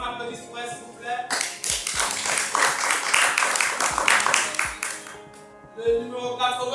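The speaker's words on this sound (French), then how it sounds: "on applaudit pour elle, s'il vous plaît" An audience at a speed-dating event claps for a woman contestant, a dense burst of hand claps building and then fading over several seconds, with music and voices underneath before and after.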